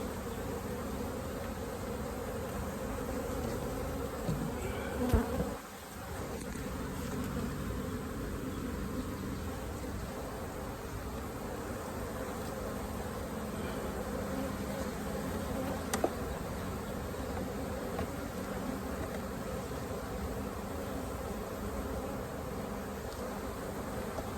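Dense, continuous buzzing of many honeybees close by at open hives, a steady drone with a brief rustle partway through and no talking.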